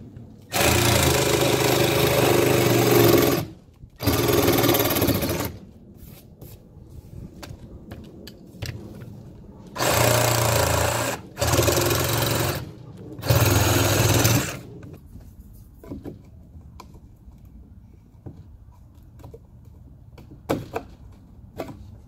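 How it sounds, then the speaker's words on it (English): A jigsaw cuts openings in an electrical box layout during shop wiring work. The close, buzzing saw runs in several bursts of one to three seconds separated by pauses, then a stretch of quieter handling noise follows. "I get a jigsaw."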